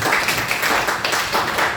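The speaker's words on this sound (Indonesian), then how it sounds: "Beri tepuk tangan untuk kita semua" A class of schoolchildren claps together in a classroom during a coding lesson, a brief burst of dense, steady clapping close by with no talk over it.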